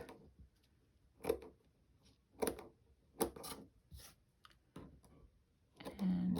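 Scissors snip through paper in a few sharp, separate cuts spaced about a second apart, with a rustle of handling at the end.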